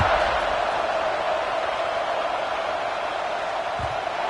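Football stadium crowd at an Ohio State vs Michigan State game around a kickoff, a steady wash of distant massed voices and cheering, even and unbroken across the stretch.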